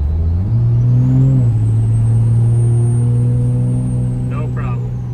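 Cummins 5.9 diesel truck pulling up a hill, a loud steady engine drone that climbs in pitch as it revs, then settles into a sustained rumble with a shift, the cab noise close and continuous.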